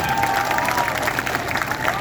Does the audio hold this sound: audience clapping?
yes